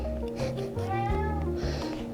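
A cat meows repeatedly, several drawn-out pleading calls in a row, close and fairly clear, begging for meat while beef is being trimmed in a kitchen.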